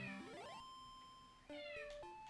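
A hungry house cat meows for its dinner at feeding time in two drawn-out, rising cries, near and moderately loud, with no one talking.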